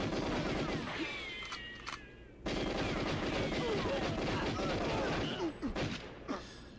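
Gunshots in the shooter game GoldenEye: a dense run of rapid, sharp shots over busy game noise, with a brief lull before the firing picks up again.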